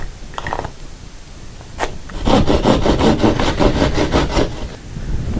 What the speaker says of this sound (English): what I need to do is make a hole in the drywall right here